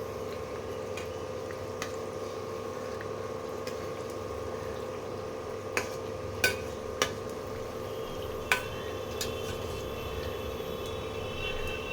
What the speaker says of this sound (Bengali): উল্টে দিলাম, এবারে উল্টো দিকটা একটু ভাজা হয়ে যাক